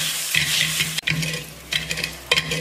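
Roasted chillies are crushed and ground with a clay pot, village style, in rough scraping and grinding strokes that come close up in irregular bursts, with no talking.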